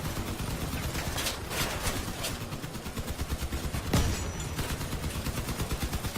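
Vehicle-mounted weapons fire steadily in the car combat game Crossout, a continuous rapid rattle over a low engine drone, with one sharper louder shot standing out near the middle.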